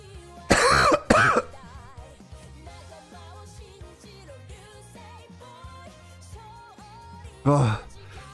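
Someone ill with Covid and running a fever coughs harshly, two loud, close bursts near the start and another a few seconds later, over quiet background music.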